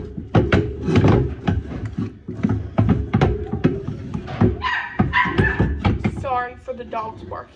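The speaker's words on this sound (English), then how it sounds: "Sorry for the dogs barking too." Dogs bark and yip in the background, several sharp barks and a whine toward the end, mixed with a person talking nearby.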